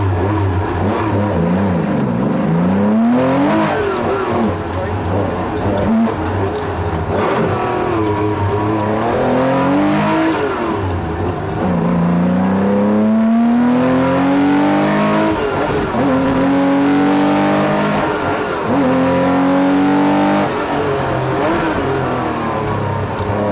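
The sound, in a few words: 1979 Porsche 911 rally car driving, heard from inside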